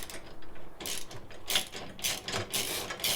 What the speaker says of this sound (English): we're going to take our ratchet